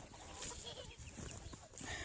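Pastured meat chickens cluck softly in the background, faint and scattered, with low farmyard ambience around them.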